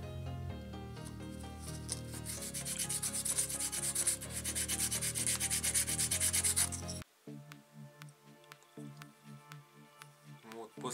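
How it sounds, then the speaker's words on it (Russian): Sandpaper is rubbed over a wooden blank for a fishing lure, making a steady, close rasping scrape throughout, with a brief drop partway through as the strokes continue. "Сейчас я обработаю еще наждачкой эту заготовочку"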